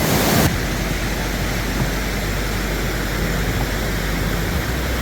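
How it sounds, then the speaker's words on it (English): Steady broadband roar of rushing water from a mountain stream and waterfall in Rocky Mountain National Park, constant and fairly loud with no voices. "this is the stream and the waterfall that runs out of it."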